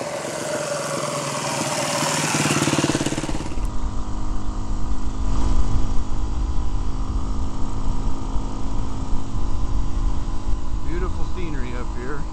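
A BigDog motorcycle rides the Alaska Highway in Yukon Territory, its steady engine drone running under heavy wind rush that buffets loudly for the first few seconds, then settles into a continuous, even roar.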